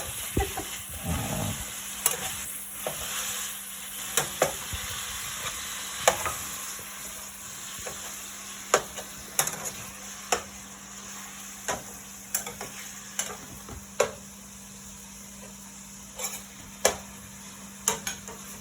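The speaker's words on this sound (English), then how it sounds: "We're going to go ahead and give our rice a little bit of a stir so that it doesn't clump too much." Rice stirred in a pan with a spoon, giving sharp scraping clicks at irregular intervals over a steady sizzle, close and fairly loud with no talking.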